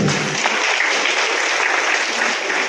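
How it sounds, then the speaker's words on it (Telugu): Loud, sustained applause from a crowd at a temple-committee celebration event, a dense steady clatter of clapping holding evenly throughout without pause. "గట్టిగా చప్పట్లు"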